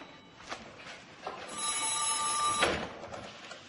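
An old telephone bell rings in a single sustained burst of about one second, bright and metallic at moderate distance over quiet room tone, with no talk.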